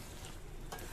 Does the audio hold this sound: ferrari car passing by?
no